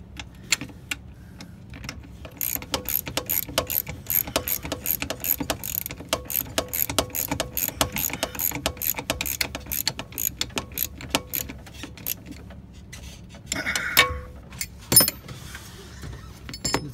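A ratchet tightens a bolt on a school bus driver's seat, producing a steady stream of crisp, close clicking strokes, followed by a short clatter and a thud near the end.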